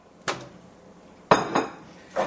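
Pasta fagioli with olive oil stirred in a pot, with three separate clanks of a spoon against the metal pot, close and fairly loud, and quiet pauses in between.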